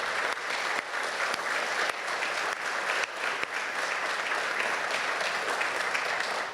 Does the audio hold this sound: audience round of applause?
yes